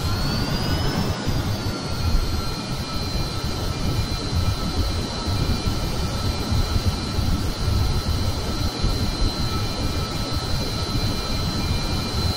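Jet engine of an aircraft in Kerbal Space Program, a loud continuous roar with a steady whine that dips slightly as the throttle comes down at the start, then holds level with no talking.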